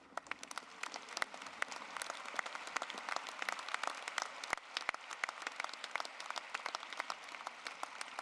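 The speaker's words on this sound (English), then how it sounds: "let's give them a round of applause" A university health professions graduation ceremony crowd applauds its faculty and administrators, a sustained scattered clatter of many hands at moderate distance, with individual sharp claps poking out of the steady wash.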